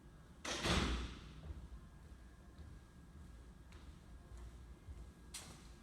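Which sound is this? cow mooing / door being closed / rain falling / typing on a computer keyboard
door being closed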